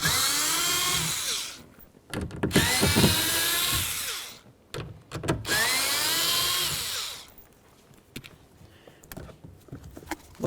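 A power tool spins out the speaker mounting bolts on the door of a Ford Expedition, running in three long, loud, close whirring bursts with short pauses and clicks between them.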